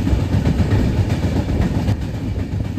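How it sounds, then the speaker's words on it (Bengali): The Tamralipta Express train runs at speed toward Digha, giving a loud, continuous rolling roar from the wheels and carriages, heard close up from on board, with faint rhythmic clatter and no voices. "ট্রেন এখন এই মোটামুটি 10 মিনিট মতন লেটে আছে।"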